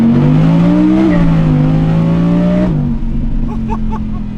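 A rear-wheel-drive Audi R8 GT with a 620-horsepower V10 roars loud and close through a mountain tunnel, its pitch climbing through the revs, then dropping sharply as the throttle lifts, leaving a lower burble with faint crackles.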